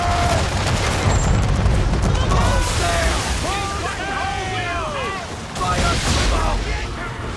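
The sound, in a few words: ship cannon fire in Assassin's Creed III video game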